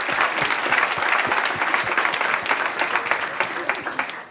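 A large audience applauds an evening event with dense, sustained clapping that stays loud and steady throughout, easing slightly toward the end.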